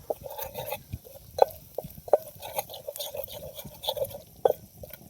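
Ingredients stirred into oil in a pan with a spoon, giving scattered scraping and tapping strokes with a few sharper knocks against the metal over several seconds, close and fairly clear.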